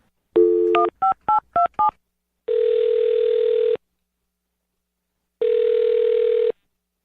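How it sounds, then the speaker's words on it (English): A telephone keypad plays a quick run of five DTMF tones, followed by two long, steady ringback tones separated by silence, all clear and close with no voices. "I'm going to dial this phone number right now"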